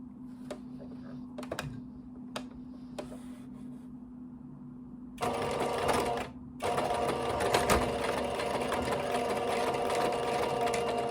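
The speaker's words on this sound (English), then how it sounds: "I'll go straight onto the sewing machine" A sewing machine stitching cotton fabric runs steadily in a continuous mechanical whir, preceded by a few soft ticks and clicks from setting up.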